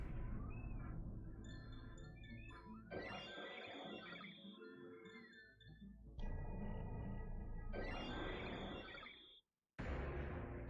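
A pet cat meows near the microphone in a home setting, several drawn-out calls in a row with short pauses between them, heard over a low steady background hum.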